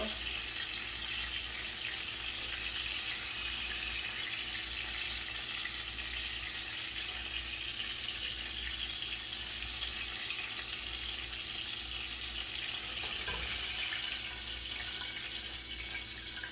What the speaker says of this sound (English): the grease is already starting to pop off pretty crazy